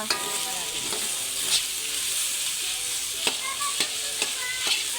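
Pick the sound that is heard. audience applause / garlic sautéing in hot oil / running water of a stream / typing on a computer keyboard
garlic sautéing in hot oil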